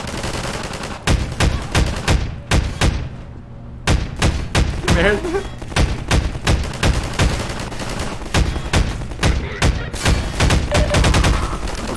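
Rapid gunfire from the video game Half-Life 2 cracks loudly and repeatedly in dense bursts with brief pauses between them, and someone speaks briefly over the shooting.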